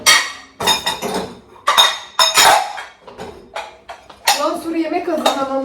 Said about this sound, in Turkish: Şu bulaşık makinesini boşaltacağım.